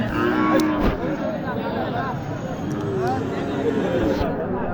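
Sahiwal cattle moo repeatedly at a busy cattle market in Naogaon, the loud, drawn-out calls rising over steady crowd chatter and talk throughout.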